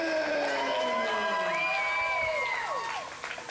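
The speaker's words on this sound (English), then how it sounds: "As you can hear by the crowd reactions, Guy Smith holding more of the crowd's love" A wrestling crowd at a heavyweight championship match cheers and whistles loudly during the ring introductions, a sustained roar of voices that fades slightly at the end.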